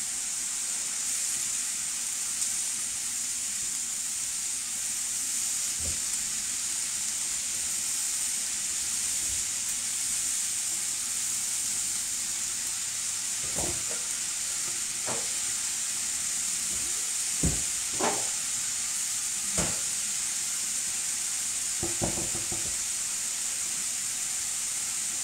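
Vegetables for vegetarian lasagne sear in a pan over high heat, giving a steady broad sizzle and hiss throughout, with occasional clinks and scrapes of utensils.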